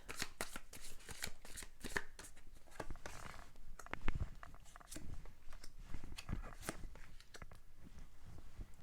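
Tarot cards being shuffled up close, a fast run of crisp riffling and flicking patter with soft taps and slides, continuous and fairly quiet, with no talking.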